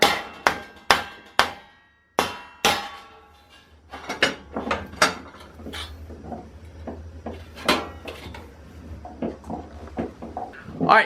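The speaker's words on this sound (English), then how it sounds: "That's where I want to take the hammer." Sharp metallic hammer blows ring out on sheet metal while forming a small parts tray, a few spaced strikes first, then a quicker irregular series of taps and bangs with faint humming behind.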